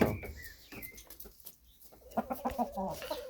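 Hens cluck in quick bursts close by in a homestead yard, their rhythmic calls rising after a quieter stretch with a few higher squawks mixed in.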